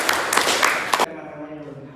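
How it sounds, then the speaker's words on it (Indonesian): Audience applause at an education lecture, a brief burst of clapping that stops after about a second, leaving quiet room tone with a faint voice. "Oke, tepuk tangan dulu."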